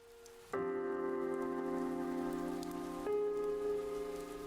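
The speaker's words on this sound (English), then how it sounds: "all that can be heard is the rain of death" Rain falls steadily in the visual novel game Chaos;Head Noah, a constant wash of rainfall under a sustained tonal drone with no voices.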